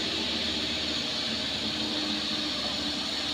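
A Colt Diesel truck engine drones steadily as it labours up a climb and loses power, a loud, constant roar with no letup throughout.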